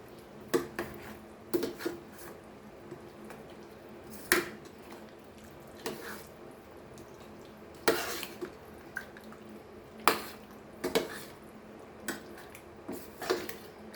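Malvani chicken curry is stirred in a pot, a spoon knocking and scraping at irregular intervals while the thick liquid squishes and drips softly between strokes, close and quiet, with no talking.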